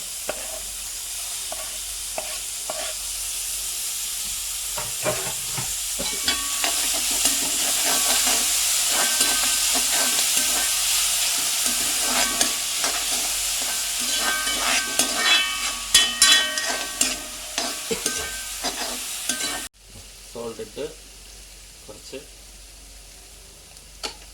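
Capsicum, onion and green chili stir-fried in a hot pan for chicken manchurian, giving a steady loud sizzle with scraping and stirring clatter that cuts out near the end, leaving quieter hiss.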